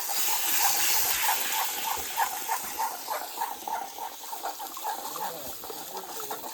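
Water tipped into a hot pan of masala cooking over a wood-fired stove, a close hissing gush that fades into a softer bubbling sizzle, with a voice talking faintly beneath.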